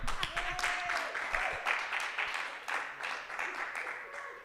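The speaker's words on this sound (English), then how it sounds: "Another round of applause for Dog Vikela" Comedy show crowd applauding comedian Doc Vikela, a fairly faint, continuous patter of clapping with some cheering voices mixed in, heard from a distance.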